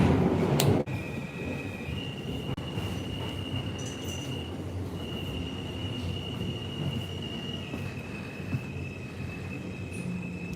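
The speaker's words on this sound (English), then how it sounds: "This is a Queens-bound E train." A Queens-bound E subway train runs with a steady rumble while high wheel squeals hold through most of the ride, recorded from inside the car with no talking.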